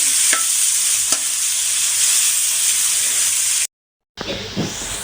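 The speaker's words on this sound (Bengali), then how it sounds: "এই তো মরিচ পেঁয়াজ ভাজা হয়ে গেছে" Green chilies and onion sizzle loudly in hot oil in a pan, a steady bright hiss with occasional stirring scrapes, cut by a short silent gap near the end.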